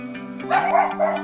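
A dog barks a few times nearby, short sharp yaps rising over a steady low background hum.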